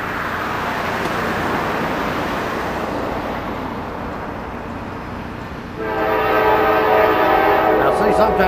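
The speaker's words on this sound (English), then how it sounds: "We have a westbound train coming pretty soon." A westbound Norfolk Southern freight train rolls past near Keystone, a broad rumble that swells and closes in, then a loud, sustained multi-tone horn blast near the end.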